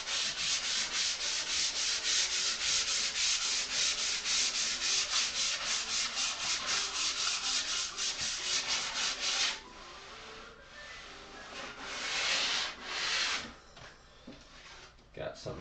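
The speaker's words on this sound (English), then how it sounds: "doing some more sanding." Steady, rhythmic hand sanding rasps back and forth close up for several seconds, then slows to a few shorter strokes with quieter pauses.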